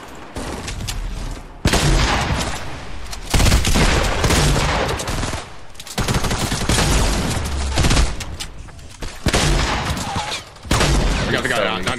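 Gunfire in a Fortnite Battle Royale match, with loud bursts of rapid automatic fire and volleys separated by short pauses, while players talk over the shooting.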